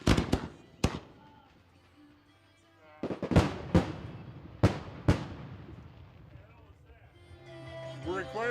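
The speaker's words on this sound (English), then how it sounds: "Test fire." Test shells of a fireworks display fire off in about half a dozen sharp, loud reports at irregular intervals, each decaying quickly, with voices audible between the bangs.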